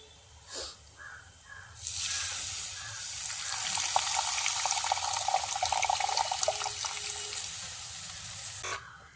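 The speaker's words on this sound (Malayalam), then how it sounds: "ഇനി നമുക്കിതിലേക്ക് ആവശ്യത്തിന് പുളിവെള്ളം ചേർത്ത് കൊടുക്കാം" Tamarind water poured into a simmering fish curry gives a steady close splashing stream for several seconds, then stops abruptly; a brief faint knock comes before the pour.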